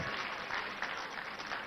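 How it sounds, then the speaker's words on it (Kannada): A room of students at a memory-training workshop claps loudly for about two seconds, a dense, steady patter of applause from a nearby audience with no talking over it. "ಚಪ್ಪಾಳೆ ಜೋರಾಗಿ."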